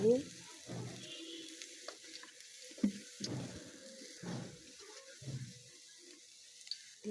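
An egg fries in hot oil, giving a faint, steady sizzle broken by intermittent low bumps and murmurs.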